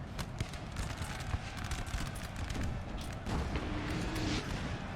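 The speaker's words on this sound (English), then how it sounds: "We got artillery doing some terrible work." Artillery fire in a Napoleonic: Total War 3 multiplayer battle, with repeated booming cannon shots and crackling volleys sounding in rapid irregular succession, dense and continuous at moderate distance, and no talk.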